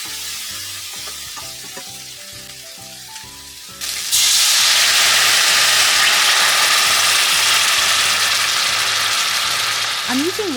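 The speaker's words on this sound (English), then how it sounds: "I'm using red wine to deglaze the pan." Red wine poured into a hot pan to deglaze it bursts into a loud, sudden hiss partway through. The hiss then holds as a sustained, bright sizzle over a quieter background hum that is audible before the pour.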